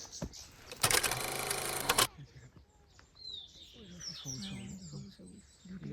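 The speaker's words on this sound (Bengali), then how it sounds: "কত পাখি কত পাখি কত পাখি কত পাখি" Small birds chirp and tweet in a mountain valley near Mulkharka Lake, a scatter of brief calls over open ambience, following a loud burst of broadband noise at the start and low voices murmuring in the background.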